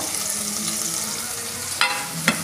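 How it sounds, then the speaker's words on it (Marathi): Chopped onion, garlic and ginger fry in a kadai with a loud, continuous sizzle, and two quick scrapes of stirring near the end. "तर हे छान गुलाबी रंगावर कांदा छान भाजून घेणार आहे।"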